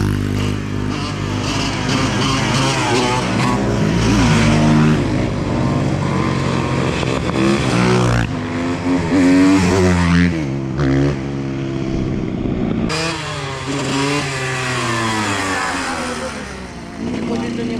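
A KTM motorcycle engine revs hard and loudly in repeated surges during wheelies on a road. The pitch sweeps up and down, with a pause and then another burst near the end, and voices come and go around it.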